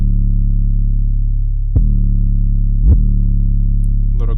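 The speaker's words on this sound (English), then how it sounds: "So just a basic 808 pattern." A basic 808 bass pattern in an FL Studio trap beat plays from a Codeine drum kit: a loud, deep sustained sub-bass tone with distorted harmonics, retriggered twice with short pitch glides, and a faint high tick near the end.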